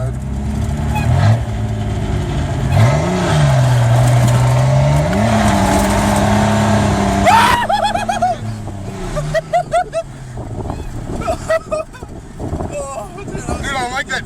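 A truck engine drones loudly nearby, then revs sharply up through a downshift before dropping away into rougher, choppy engine noise, with people talking over the later part.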